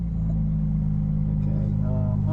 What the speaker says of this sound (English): So we're just going to turn the engine on by pressing qualify.